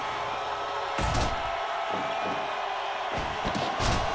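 A wrestling crowd in a large arena roars and cheers in a steady wash of noise, with several louder surges and slam-like thumps from the ring cutting through.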